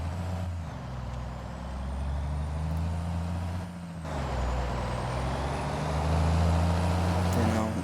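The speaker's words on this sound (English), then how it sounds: "Takes forever to turn this truck with that trailer." A pickup truck pulling a trailer on a farm during corn harvest turns slowly, its steady low engine rumble and road noise running loud and continuous, with a brief dip midway and a hiss like an air brake.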